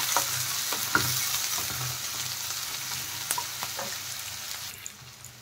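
Chopped onion and green chilies frying in a pan, a soft continuous sizzle with occasional clicks of a spatula, fairly quiet and close.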